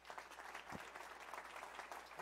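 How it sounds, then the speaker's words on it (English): Audience applause fills a lecture hall as a university president is welcomed to the stage, steady dense clapping throughout with a brief low thump partway through. "Please give us a round of applause"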